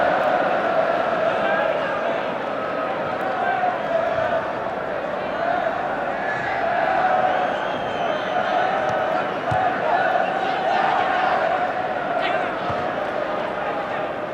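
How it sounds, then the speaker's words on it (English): A crowd at Wembley Stadium for the 1984 England v USSR football match keeps up a steady, distant roar throughout, with a commentator talking over it. "The crowd trying to launch an England revival in the last quarter of an hour."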